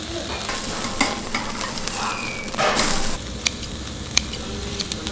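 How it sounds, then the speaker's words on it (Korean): Slices of Korean 1++ hanwoo beef, rib-eye cap and cut from the loin, grilling at a restaurant table, giving a steady close sizzle and crackle throughout with a few sharp pops and a brief louder burst midway. "두 번째 고기 굽겠습니다."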